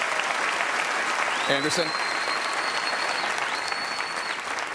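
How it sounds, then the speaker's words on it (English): Audience applause for the candidates at a 2015 Republican presidential debate, a dense, steady ovation that holds for nearly five seconds while someone speaks briefly over it. "let's have one final round of applause for the candidates."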